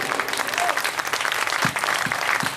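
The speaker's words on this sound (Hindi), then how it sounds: "आपकी तालियां कमजोर हैं।" Applause from an audience at a Hindi poetry gathering, busy overlapping clapping with a few louder low thumps near the end, fairly loud and steady.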